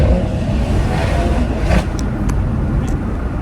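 A BMW M240i fitted with a Scorpion exhaust pulls hard in second gear, its engine and exhaust roaring loud and close in a steady, continuous drone.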